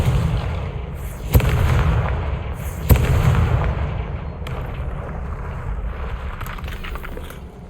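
A Bombarda spell explodes in Hogwarts Legacy, two heavy booms landing a second and a half apart, each followed by a deep rumbling roar that slowly fades.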